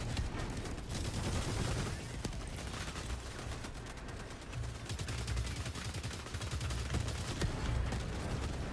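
Video game gunfire rattles in rapid, dense bursts throughout, loud and steady over a thick layer of battle noise and low rumble, with sharp individual shots cracking through at irregular moments.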